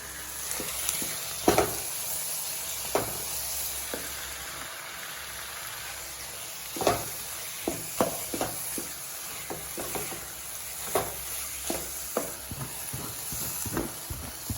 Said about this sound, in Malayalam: തേങ്ങാപ്പീര മുഴുവനും ചേർത്ത് നമുക്ക് നന്നായിട്ട് ഇളക്കി നല്ല ഡ്രൈ ആയിട്ട് എടുക്കുക